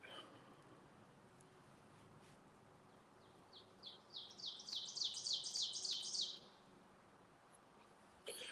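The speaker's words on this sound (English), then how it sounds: "you're talking about that bird that you're hearing over there. Yeah, I don't know what that is. It is very loud." Outdoors, a loud unidentified bird gives a rapid run of high, sharp chirps that builds over a few seconds and then stops abruptly, set against a quiet background hiss.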